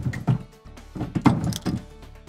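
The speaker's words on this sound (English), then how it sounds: "So first thing we're going to do is we're going to resize that brass." Rifle brass being resized in a sizing die on a reloading press: a few distinct mechanical thunks and clunks as the handle is worked, close and fairly loud, with short quiet gaps between strokes.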